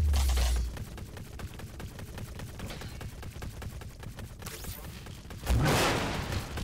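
Video game gunfire rattles in a steady stream of rapid shots for several seconds, followed by a louder boom near the end; faint talk in places.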